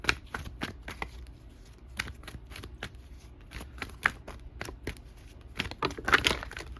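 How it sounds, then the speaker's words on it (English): Tarot cards are shuffled by hand in a quick, irregular run of crisp riffling snaps and flutters, close and fairly loud throughout. "Oh, cards flying everywhere."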